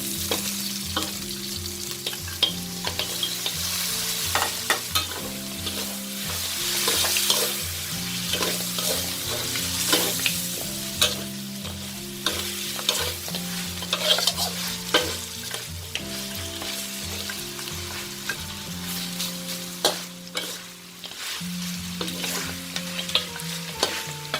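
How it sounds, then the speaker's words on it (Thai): Pork ribs stir-fried in fragrant Southern Thai curry paste, a steady close sizzle with repeated scraping and stirring strokes of a utensil in the pan throughout, accompanied by gentle background music and no talking. "เราใส่กระดูกหมูลงไปเลยค่ะ"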